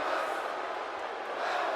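Arena crowd roaring steadily in WWE 2K18 as Bobby Roode makes his WrestleMania 34 entrance, a dense, continuous wash of cheering that holds at an even level throughout.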